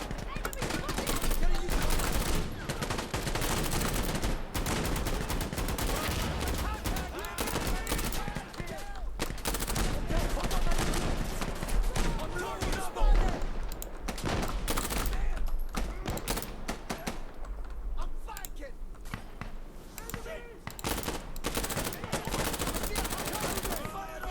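Gunfire from an ACOG-equipped SMG in the video game Insurgency Sandstorm rattles out in dense, rapid bursts throughout, layered with other battlefield shots and action.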